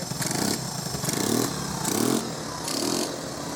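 A 1984 Honda 125M motorcycle engine runs on full choke, its idle rising and falling in steady surges about every second with a rough, clattering tone, close and loud with no talking.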